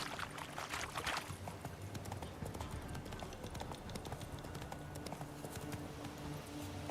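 Roach the horse's hooves clip-clop across ground in The Witcher 3, a quiet steady trot of soft hoof knocks under low ambient game sound.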